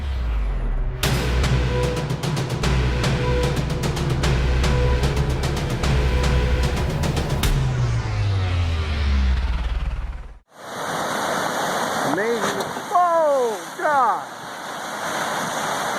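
An old concrete slab bridge gives way into a rushing river, with a loud, steady roar of torrent water and a crackle of crumbling debris. Then comes a quieter stretch with voices over the flowing water.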